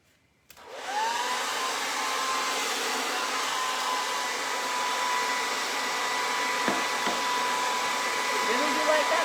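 A hair dryer switches on after a brief quiet moment and runs loud and steady close by, drying milk paint on a wooden heart. Its whine holds continuously to the end.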